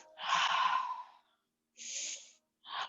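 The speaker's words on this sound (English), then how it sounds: "Breathing in, breathing out." Slow, deep breaths in and out during a gentle yoga session, a long airy exhale followed by a pause, then two shorter breaths, close and clear with no talk.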